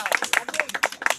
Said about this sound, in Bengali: আসুন পাপিয়া দে, তালিয়া তালিয়া তালিয়া।